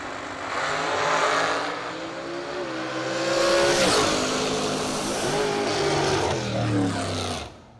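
Dragster race cars roaring down the strip in the final pair of round 5 at a bracket racing Christmas event, a loud sustained engine blast with rising revs that holds for several seconds before cutting off.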